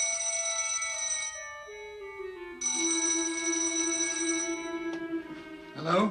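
An old telephone rings in a 1950s London flat, its bell tone sounding a couple of times before a sliding, warbling tone and a brief clatter take over.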